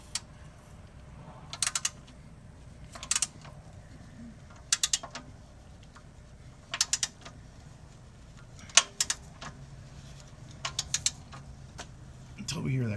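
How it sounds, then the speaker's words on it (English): Torque wrench clicking as the oil drain bolt on a Mercedes GL 450 is tightened to spec, sharp metallic clicks in short clusters repeating through the clip, close and distinct over a quiet background. "Until we hear that click."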